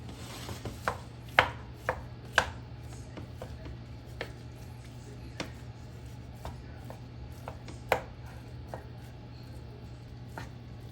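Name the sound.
chopping ground meat in a pan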